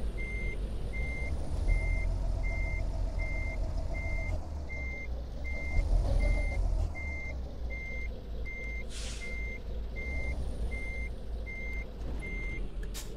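Truck in a trucking video game gives off regular reversing beeps, evenly spaced for about thirteen seconds over a low steady engine rumble, with no talk.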